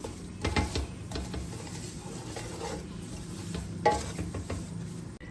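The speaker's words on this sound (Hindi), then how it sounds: "चम्मच को हिलाते हुए हमने इसकी अच्छे से भुनाई कर लेनी है।" A spoon stirs and scrapes halwa roasting in a pan, giving steady close scraping and clinking over a soft sizzle, with no talk.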